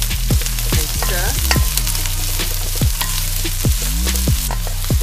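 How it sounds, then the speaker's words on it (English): Onion frying in a pan for a chilli jam pasta stir fry, with a loud, dense, continuous sizzle and a few scrapes of stirring, close and steady throughout and with no talking. "So bake the onion until it becomes translucent"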